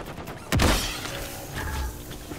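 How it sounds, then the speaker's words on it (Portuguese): A sharp impact burst followed by scattered crackling bangs and thuds of Call of Duty gunfire hitting nearby, with a steady background hum. "Eu tô levando tiro!"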